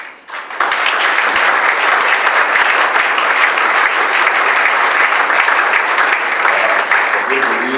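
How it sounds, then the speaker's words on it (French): Audience at a church gathering applauds in welcome of a pastor, a sustained loud wash of clapping that swells in after a brief quieter opening and continues evenly to the end. "On peut aussi les recevoir avec beaucoup d'acclamation."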